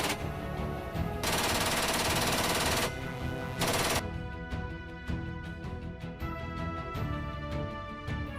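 A GAU-21 heavy machine gun firing, two loud sustained bursts of rapid fire followed by ringing tonal aftermath, close and without speech.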